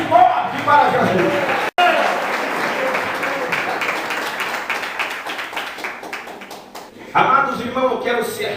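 A church congregation claps hands hard and fast in dense, sustained applause, with a brief cut near two seconds and a fresh loud surge toward the end.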